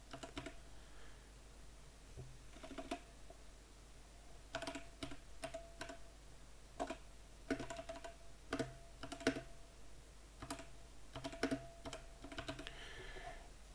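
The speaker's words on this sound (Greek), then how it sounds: "Μπορούμε να πληκτρολογήσουμε κείμενο." Text is typed on a computer keyboard in scattered bursts of soft, close key clicks with irregular pauses between them over a faint background hum.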